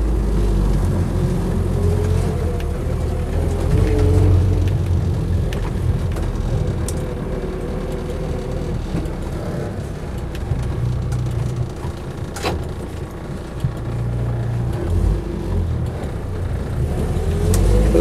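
A Land Rover Series III 88-inch soft-top with a petrol engine idles steadily and loudly close by, a constant low rumble with slight unevenness throughout.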